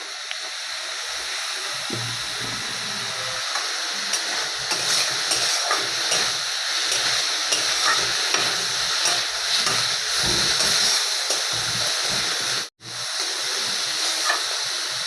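Masala sizzles in oil in a kadai on the stove, a steady bright hiss and crackle with faint stirring scrapes throughout, close and continuous, briefly cut near the end.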